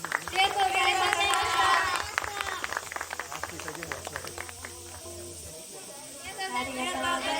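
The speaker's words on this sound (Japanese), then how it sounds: "大きな拍手をお願いします。" An audience claps after a cat-themed dancer's performance at an outdoor event at Rakujuen, with a scattered patter of applause under a person talking over a loudspeaker, thinning out toward the end.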